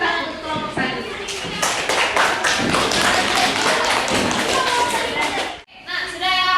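Classroom audience of students applauding a presenting group, a loud, steady patter of hand claps lasting several seconds, with children's voices mixed in before a brief pause and then talk.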